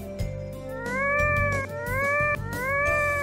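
A cat in a horror mansion video game meows in a couple of long, rising, insistent calls over steady background game music, loud and close.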